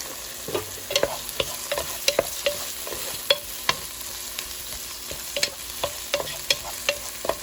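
Chopped tomato hitting a hot frying pan, with a soft steady sizzle under repeated sharp clinks and scrapes of a spoon stirring against the pan, close and without talk.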